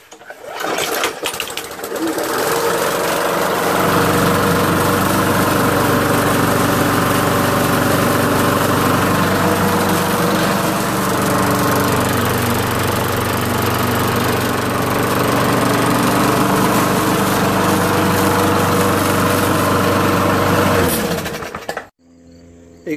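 A lawn mower engine, freshly fitted with a cleaned spark plug, starts up and runs steadily at a loud, even drone for about twenty seconds before cutting off abruptly.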